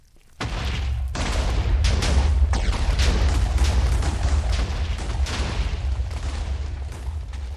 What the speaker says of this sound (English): I guess we're gonna do 2 big explosions.